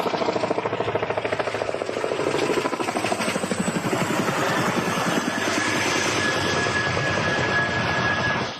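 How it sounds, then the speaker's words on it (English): Low-flying military helicopters in Hawaii, rotors thumping steadily overhead, loud and close, with a continuous engine roar throughout. "Low-flying helicopters, every day we hear this."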